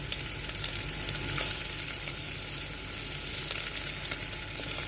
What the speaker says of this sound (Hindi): प्याज को हम ब्राउन करेंगे भून के